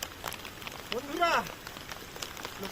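Steady rain patters on surfaces during a rainy day on the Rudranath trek, a broadband hiss of drops throughout, with a brief voice-like tone rising and falling in the middle.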